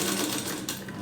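Sewing machine stitching a blouse sleeve, a fast continuous mechanical whir of needle strokes, close and moderately quiet, lasting about a second.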